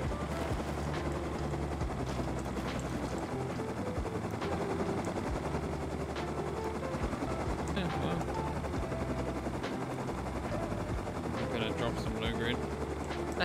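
A helicopter in the Rust video game flies low with a steady rotor drone, mixed with bursts of gunfire and people talking over it throughout.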